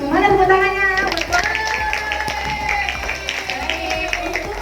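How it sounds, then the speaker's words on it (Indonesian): A school audience gives a round of scattered hand claps, light and uneven, following a short stretch of voices and carrying on for a few seconds. "Mana tepuk tangannya?"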